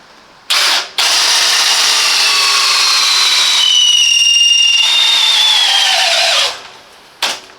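Parkside Performance 20V cordless drill (PPBSA 20-Li A1) motor whirring loudly and steadily for several seconds, pitch shifting as it runs, with a short burst near the start and a brief blip at the end.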